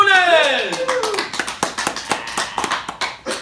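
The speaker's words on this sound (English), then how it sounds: "Let's, ladies and gentlemen, let's have a round of applause for Jack Cloonan!" Audience claps for a stand-up comedian at a live show. The claps come as a quick, fairly regular series right after a voice, loud and close.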